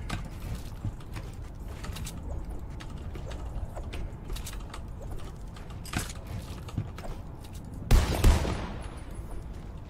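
Gunshots in Fortnite crackle faintly amid clicking game mechanics, with a louder close burst near the end standing out from the steady background.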